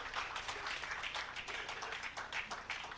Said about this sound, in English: Can we give her a round of applause one more time?